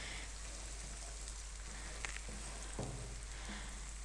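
Eggs and masala cook gently on a low flame with a soft, steady sizzle. A spoon clinks and scrapes lightly as it stirs, and a low hum sits underneath.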